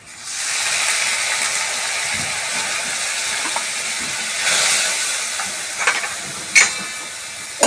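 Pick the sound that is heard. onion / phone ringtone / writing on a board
onion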